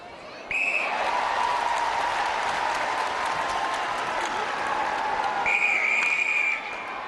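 A crowd at a netball World Cup semi-final between England and New Zealand applauds loudly and steadily throughout, with a referee's whistle shrilling near the start and again near the end.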